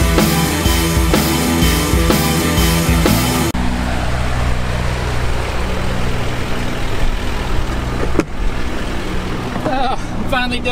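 A truck engine rumbles loudly and steadily on a short drive, with a harsh shift in tone partway through and a brief bump near the end.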